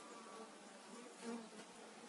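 Faint, steady buzzing of many honeybees swarming close together at a polystyrene hive in autumn, a continuous droning hum with no voices.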